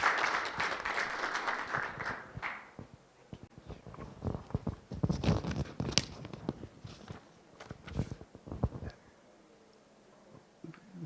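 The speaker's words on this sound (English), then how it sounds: "Give him a round of applause." Conference audience applauding after a committee chair is welcomed at a scientific conference on obstetrics and gynaecology, a dense burst of claps that thins into scattered claps and fades out by the end.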